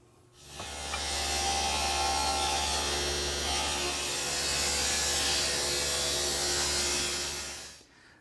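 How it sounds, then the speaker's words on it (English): A table saw cuts wooden molding in a woodworking shop, a loud steady whine with a low motor hum that starts abruptly, holds for several seconds and then winds down, with no one talking. "Now, I have to make a couple more modifications here at the table saw."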